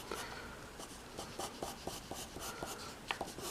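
A pencil scratches across paper with short, quiet strokes, tapping and dashing in an irregular rhythm while sketching teeth on a Spinosaurus drawing.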